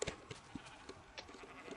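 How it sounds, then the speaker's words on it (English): Video game sheep bleating: several short, quiet bleats scattered across a low, busy game soundscape, with no one talking over them. "you're looking for my sheep"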